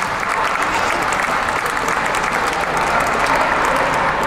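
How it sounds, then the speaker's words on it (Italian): Sustained applause for a judge at the 2018 international dog show at the Lingotto Oval in Turin: a large crowd clapping in a thick, even roar that fills the hall from start to end. "un grande applauso per una giudice che è un po' la padrona di casa"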